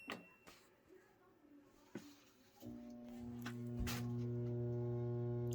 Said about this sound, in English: whenever she tries to start the dryer, all it makes is a humming sound